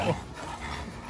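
An Exotic Bully puppy gives a brief, faint whimper against noisy background sound.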